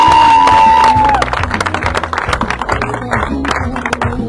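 A large crowd at a political rally in Nor Nork, Yerevan, claps and cheers in a loud, dense, sustained wave of applause that continues through the whole stretch.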